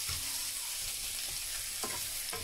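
Onion and chorizo fry steadily in a pan for a Spanish omelette, a soft continuous sizzle with a few stirring scrapes near the end.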